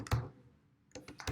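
A computer keyboard is typed on in a few quiet, close clicks: one keystroke, a pause, then a short cluster of taps.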